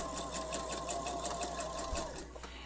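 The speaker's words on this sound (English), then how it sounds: "now I can just edge stitch right along that seam binding through all the thicknesses" A sewing machine edge-stitches along seam binding through several layers of a pullover garment, a fast, steady run of close needle chatter with a low motor hum underneath, uninterrupted throughout.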